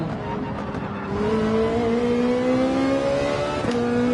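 A race car in Gran Turismo 7 online racing screams through its gears, engine pitch rising steadily with a brief tire chirp near the end, loud and close throughout.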